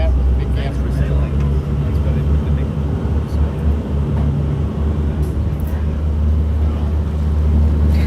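A boat cruising at Disney's Fort Wilderness Resort gives a steady, loud low engine drone with wind rush throughout, and people talk over it.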